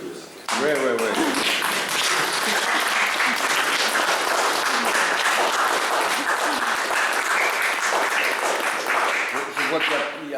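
A live audience applauds in a dense, sustained burst of clapping, loud and close, lasting about ten seconds, with a voice speaking briefly at the start and end.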